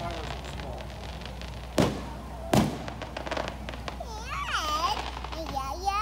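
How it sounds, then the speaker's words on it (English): Two sharp Fourth of July firework bangs pop about a second apart from high overhead, followed by children's excited voices and background chatter. "They're so high up, the fireworks are small."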